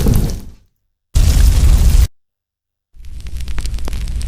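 Gunfire sound effect: loud bursts broken by total silence, the last one a rapid crackling volley of sharp cracks.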